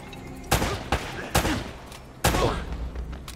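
Gunfire in the video game Uncharted: Drake's Fortune: four sharp, loud shots ring out at uneven intervals, the last one followed by a rattling burst that trails into ambient game noise.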